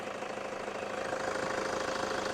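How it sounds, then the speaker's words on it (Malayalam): A steady Toyota car engine idles close by, a continuous low rumble with a faint rhythmic knock, unchanging throughout and with no voices. "എഞ്ചിൻ്റെ സൗണ്ട് അത്രത്തോളം പക്കയായിട്ട് നിങ്ങൾക്ക് കേൾക്കാൻ കഴിയും"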